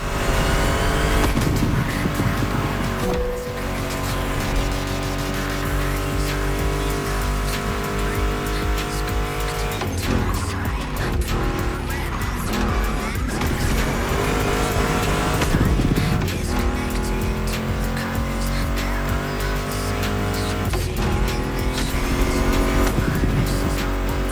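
A roaring Ford Mustang GT muscle car engine in The Crew Motorfest revs and drones continuously with squealing tires, racing-game style, mixed with loud music throughout.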